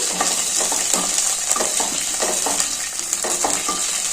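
Tempering spices for a carrot fry sizzling hard in hot oil, a loud steady hiss with repeated crackles and faint scraping of stirring, no voices.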